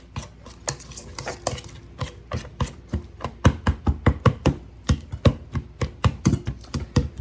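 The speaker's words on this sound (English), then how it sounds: "let's kind of stir that around in there a little bit" Chopped dried cranberries being stirred into a spreadable pinwheel filling in a bowl, a rapid series of close, clicking utensil knocks and scrapes in an uneven rhythm, with no talking.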